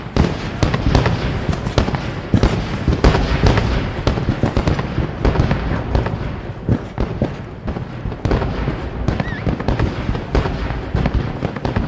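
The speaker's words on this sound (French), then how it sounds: "Il y a un feu d'artifice ou quoi?" A continuous barrage of fireworks in Red Dead Online during a Christmas event, with dense overlapping bangs, crackles and pops sounding loud and close across the whole stretch, no talk.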